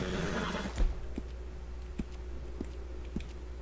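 A brief whinny from an injured horse in Red Dead Redemption 2 at the start, then a thud and a few faint, evenly spaced ticks over quiet background noise.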